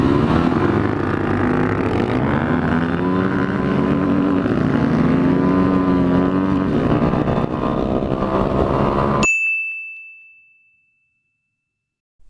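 A stock Yamaha WR250R and a Suzuki DRZ400 dual-sport motorcycle run in a drag race, with loud, close engine revving and rising pitch as the bikes accelerate. The sound then cuts off sharply, followed by a bright ding and near silence.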